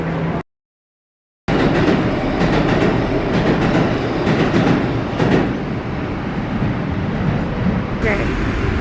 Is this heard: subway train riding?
yes